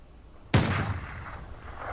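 A single loud, sharp gunshot bursts out after a short quiet lead-in, then rings off into a broad rumbling tail that lasts over a second.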